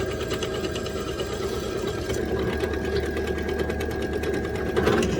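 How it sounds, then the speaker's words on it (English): Drilling out a part for motorcycle forward controls on a Suzuki GSX custom build, a fast, close mechanical whir with rapid rhythmic chatter, steady throughout and swelling briefly near the end. "get this drilled out"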